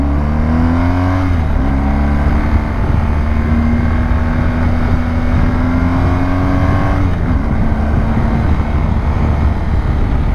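A loud BMW R1250GS motorcycle engine drones steadily up close while riding, its pitch climbing gradually with a couple of brief dips like gear changes.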